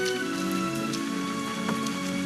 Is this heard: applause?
no